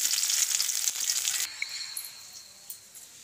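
Onions frying in hot oil with whole cardamom and cinnamon, a bright steady sizzle that is loud at first, then quieter and thinner after a stir, with a few small pops.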